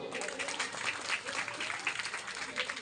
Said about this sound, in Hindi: उन सब के लिए एक बार तालियां हो जाए।